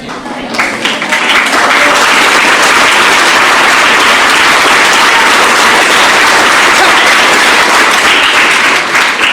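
Loud, dense applause from a classroom or lecture audience fills the whole stretch, steady and sustained with no pause.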